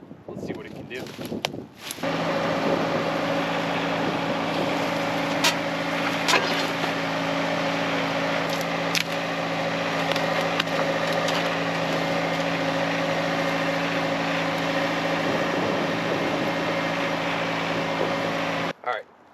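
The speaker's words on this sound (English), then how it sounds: "I'm impressed with this little tractor." A small LS tractor's engine drones steadily at high load while lifting a big rock in mud, loud and constant with a harmonic hum and occasional clanks.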